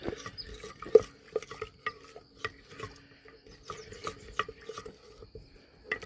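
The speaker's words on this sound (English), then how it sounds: "Stir that in slowly so you don't get great big lumps." A spoon stirs flour into a sourdough starter in a bowl, with a steady series of soft scraping strokes and occasional sharper clinks against the side, close and quiet with no talking.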